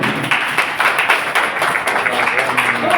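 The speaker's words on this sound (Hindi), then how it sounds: "ताली।" An audience at a stage programme in Kotma breaks into loud, dense clapping, a continuous burst of close hand claps with no voices over it.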